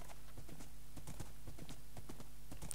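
A horse in the Minecraft video game trots with a steady run of quick, close hoofbeat clip-clops, quiet and alone with no talk.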